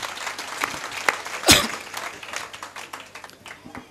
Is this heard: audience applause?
yes